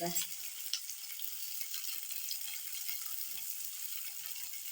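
Onions frying in a pan for vegetable fried rice, giving a steady, moderately faint sizzle throughout with a few light stirring clicks.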